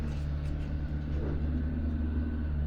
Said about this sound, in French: On entend les camions de déneigement à l'extérieur.